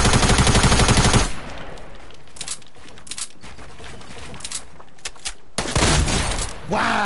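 Shotgun blasts in Fortnite ring out in a loud, dense burst at the start, then give way to quieter game noise before another loud burst near the end.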